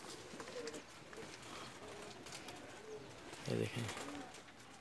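A pair of Lal Badshah pigeons gives soft, low coos, with one clearer coo near the end, heard faintly while someone speaks nearby.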